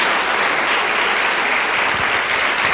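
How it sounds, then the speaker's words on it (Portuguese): Congregation at a church service claps steadily and loudly, a continuous close burst of applause with no talking over it. "Dê uma salva de palmas ao Senhor"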